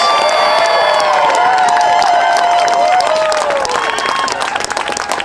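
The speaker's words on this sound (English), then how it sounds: "Can we give a huge round of applause back there to Marsha Howard, to our teachers?" A large crowd at a rally in Minneapolis claps and cheers loudly and continuously, with whoops and shouts rising above the steady applause.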